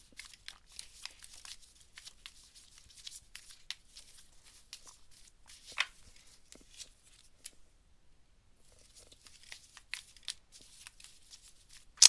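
Tarot cards are shuffled by hand close by, making soft, quiet riffling and papery flicks in uneven bursts, with a short pause near the middle and no talk.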